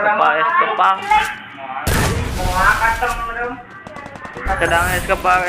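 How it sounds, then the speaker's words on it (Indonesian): Booming grenade blasts in the Free Fire battle royale game, several heavy bursts going off under continuous excited commentary that runs through the whole stretch. "ada Pati sedang spam bom granat"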